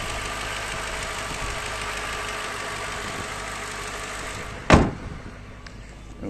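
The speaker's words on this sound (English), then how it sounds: "Get the V8 twin cam, 40 valve" A 4.2-litre twin-cam 40-valve V8 in an Audi S4 Quattro Cabriolet idles with a steady, even hum, then a sharp loud clunk cuts in near the end before the idle settles again.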